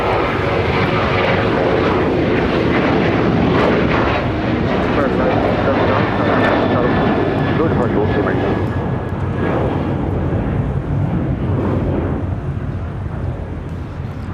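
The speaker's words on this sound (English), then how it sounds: "We got the ANA Dreamliner number 2 for takeoff here on the south side." An ANA Boeing 787 Dreamliner takes off from the south side of LAX, a loud, steady jet roar that holds through the whole stretch and eases only slightly toward the end.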